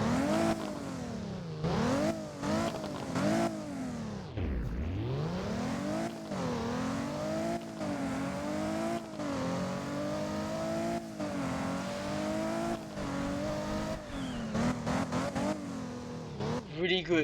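Ford GT MK2 race car engine in the video game Driving Empire revving repeatedly, loud and close, with sharp rising and falling pitch sweeps, one deep drop to idle midway, then continued throttle blips.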